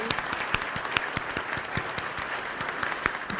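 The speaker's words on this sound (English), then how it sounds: "Let's give a round of applause for all of you." Applause from a modest audience at a monthly club meeting, distinct individual claps in a steady patter for a few seconds, moderately near and not very loud.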